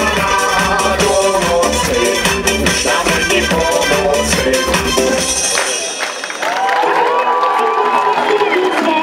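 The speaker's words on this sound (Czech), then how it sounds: "A pojďte zatleskat těm nejmenším!" Audience applause and cheering for a group of the youngest children after their dance at a street dance event, a loud, dense crowd sound with whoops and shouts, briefly dipping before continuing.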